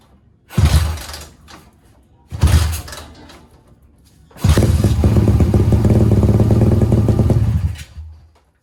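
A motorcycle engine blipped twice in short loud bursts, then held at a steady high rev for about three seconds before dropping off, heard up close.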